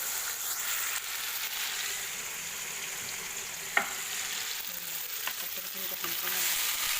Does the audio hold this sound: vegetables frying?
yes